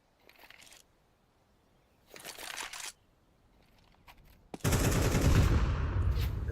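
Gunfire in a Counter-Strike match comes in short bursts separated by quiet gaps, then a sustained, louder rattle of shots closes out the moment.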